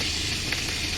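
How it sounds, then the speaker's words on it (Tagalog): Garlic sizzles in a hot pan while being sautéed for a Filipino squash dish, a steady close frying hiss with no talk. "magigisa na po tayo"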